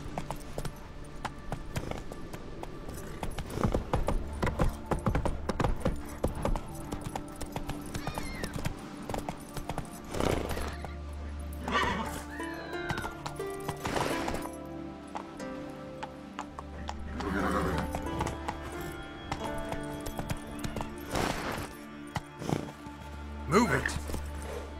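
Horse galloping in The Witcher 3 video game, with steady clip-clopping hoofbeats and an occasional neigh under ongoing talk.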